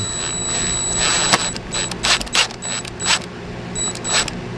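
Screws being driven into a fiberglass boat hull to fit a drain plug: a near, uneven run of short ratcheting and mechanical clicking bursts.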